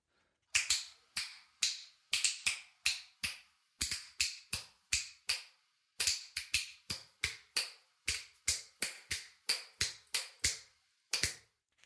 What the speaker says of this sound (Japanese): 私の指パッチンの音です